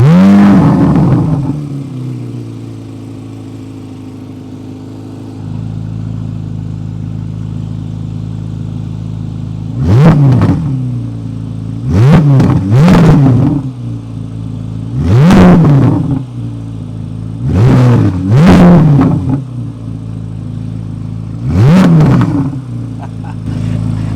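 Chevrolet Corvette Z06 with a quad exhaust idles with a deep burble, then revs sharply about six times in quick, loud bursts that soar and fall back, heard close from behind the car.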